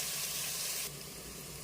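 Sliced red onions and green chillies frying in hot oil for mutton biryani, a steady close sizzle that continues throughout and drops slightly in loudness partway through.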